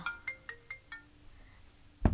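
A mobile phone plays a ringtone of five evenly spaced bright chime notes over a soft held tone, heard alone up close, then a sudden loud clunk as the phone is handled.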